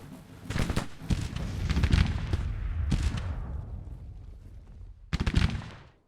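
A battlefield volley of gunfire cracks out in several ragged bursts, each a cluster of sharp reports trailing into a rumbling echo, with quieter gaps between the salvos.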